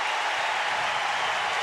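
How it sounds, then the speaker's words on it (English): A big stadium crowd at a college football game between Arkansas and Auburn applauding and cheering its defense, a dense steady roar of clapping and shouting with no breaks. "this big crowd erupts, applauding its defense for holding Arkansas 3 downs and out"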